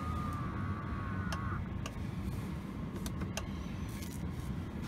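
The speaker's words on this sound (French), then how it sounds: "rétroviseur rabattable électriquement" An electrically folding side mirror on a Citroën Jumper H2L2 van whirs briefly at the start, a short motor hum in a quiet cabin followed by a few faint clicks.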